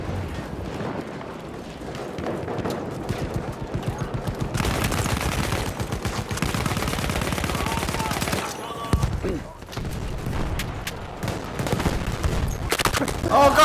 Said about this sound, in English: Just hear bullet shots everywhere.